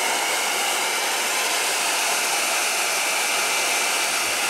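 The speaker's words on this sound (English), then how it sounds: "use the hair blower to the maximum heat possible" Hair dryer running flat out at its maximum heat setting, a steady, loud, broadband airy whoosh held constantly throughout with no talk.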